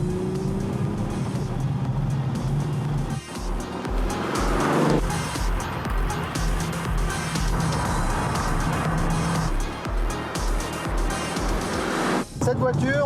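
A Porsche 911 964 Turbo with a 3.6-litre, 360-horsepower engine drives at about 3000 rpm, a loud, steady engine drone heard from inside the car that rises and falls with shifts, while people talk over it.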